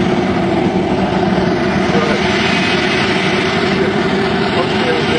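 A jet aircraft engine spools up on the ground at an airfield, a steady loud broadband roar that holds constant and close, with no voices over it.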